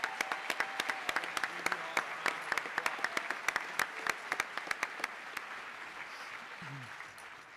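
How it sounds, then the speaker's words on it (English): A graduation audience applauds in a school ceremony hall: dense, sustained clapping from many hands with sharp individual claps standing out, steady throughout and fading slightly at the end. "So another massive round of applause, please."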